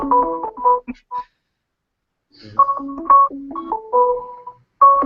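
A mobile phone's incoming-call ringtone plays a loud, close melodic tone pattern in short repeated phrases separated by a brief silence, with no voices.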